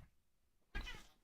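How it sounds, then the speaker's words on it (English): A house cat lets out a single short meow, fairly close and clear, breaking a quiet room during a live game stream. "That was the cat."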